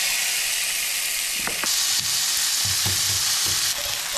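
Meat frying in a hot pan gives a loud, steady hiss with crackling, and a few utensil clicks and scrapes come through partway in.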